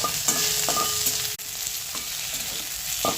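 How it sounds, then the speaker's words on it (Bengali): Tomato frying with onion and garlic in oil, a bright continuous sizzle with a few stirring scrapes and one brief knock, close and steady with no talk. "টমেটোটা পেঁয়াজের সাথে ভেজে নেব।"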